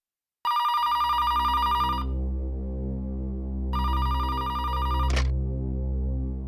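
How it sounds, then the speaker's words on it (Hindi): A telephone rings in two loud, close bursts of electronic trilling separated by a short pause, with a low hum continuing underneath. "फोन उठाना है प्लीज।"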